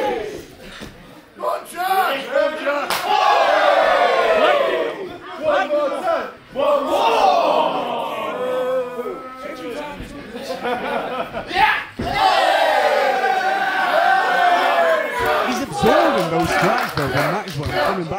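A boxing crowd shouts a rhythmic call in bursts, loud and echoing, with several chant phrases separated by short dips and a voice talking over the noise.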